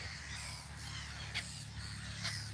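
Crows caw at a park lake, two short calls rising over steady outdoor background noise, moderately distant.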